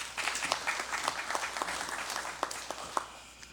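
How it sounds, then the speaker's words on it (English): Moderate applause rings out in a legislative session chamber, a room of people clapping at medium distance, fairly quiet and steady with a few sharper claps standing out near the end. "Please, let's give them a round of applause."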